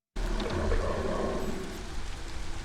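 Steady drizzle falling in the video game Against the Storm, a soft continuous patter that starts abruptly and holds at an even level throughout, alone with no talk.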